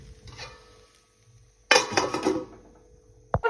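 A dish of cooked rice being covered, with a sudden clatter of a lid or plate against cookware, a burst of rattling dishware over a second, then a sharp clink near the end, close and fairly loud against quiet room noise.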